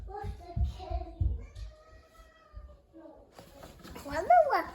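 A cat meows in a rising, wavering cry near the end, after a stretch of a child's chatter and a few other tonal sounds nearby in a home setting.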